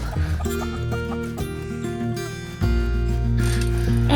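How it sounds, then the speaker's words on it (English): Chickens clucking at a desert homestead, several birds making short repeated calls close by, with music playing over them and a louder swell partway through. "we've really been enjoying those chickens"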